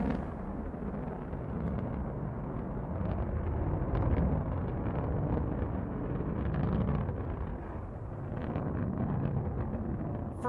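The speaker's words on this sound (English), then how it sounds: "Beautiful liftoff from our launch site 1 in West Texas." Blue Origin New Shepard rocket climbing after liftoff from Launch Site One in West Texas, a steady, loud broadband roar with crackling rumble that holds for the full stretch without pause.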